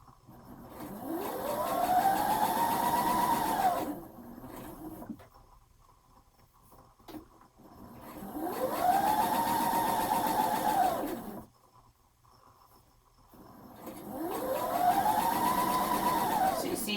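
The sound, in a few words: sewing machine stitching a romper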